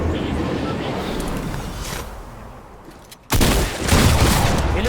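Video game gunfire bursts out loud in a dense, sustained barrage after a brief lull, with a player talking over it.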